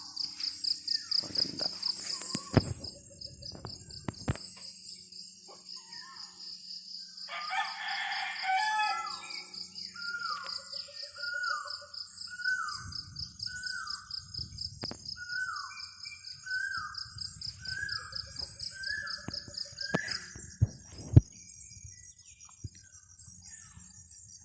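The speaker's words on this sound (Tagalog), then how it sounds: "ang maingay dito yung mga ibon hindi sasakyan" A rooster crows repeatedly over a dense chorus of chirping birds and steady insect buzz, a busy rural dawn soundscape at 5:30 a.m. in Bohol, Philippines, with no talking.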